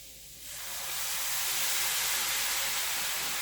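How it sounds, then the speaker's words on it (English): Canned tomatoes tipped into a hot pan for shakshuka burst into a loud, steady sizzle that swells within half a second and holds as a broad hissing roar to the end. "So I'm going to add my can of tomatoes"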